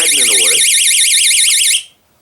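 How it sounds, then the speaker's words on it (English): A cheap homemade bushcraft perimeter alarm, set off when its magnet is pulled away, blares a loud, piercing warbling electronic shriek for about two seconds, then stops abruptly. A voice is heard briefly at the start. "magnet away, the alarm goes off"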